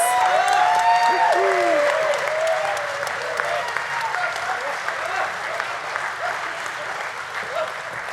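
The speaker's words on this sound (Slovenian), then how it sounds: "Dajmo velik aplavz." Sustained audience applause at an armed forces command anniversary celebration concert, steady and fairly loud throughout, with a few faint voices or whistles rising over the clapping near the start.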